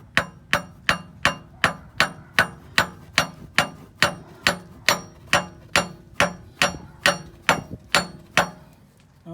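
A hammer tapping a crankshaft key into place on a Ford Taurus engine during timing cover gasket repair, about eighteen sharp, evenly spaced metallic strikes in a steady rhythm, close and loud with no talking.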